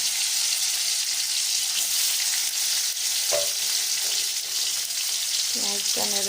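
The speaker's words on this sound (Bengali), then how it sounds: "আমি তেলে ফোড়ন দেব। সামান্য জিরে, পেঁয়াজটা দিয়ে দিলাম।" Cumin seeds and onion sizzle in hot oil, frying loudly and continuously with occasional stirring scrapes, and a brief voice rises near the end.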